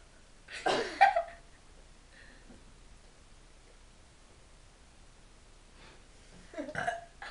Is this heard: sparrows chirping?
no